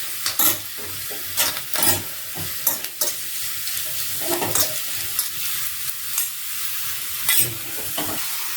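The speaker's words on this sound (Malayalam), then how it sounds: "എല്ലാം കൂടെ മൂപ്പിച്ച് നമുക്ക് ഇനി കറിക്കകത്തോട്ട് ഒഴിച്ചു കൊടുക്കാം." Hot tempering of fried onion and curry leaves poured into a buttermilk ash gourd curry, giving a close sizzling hiss with clattering bursts of stirring and scraping, no voices.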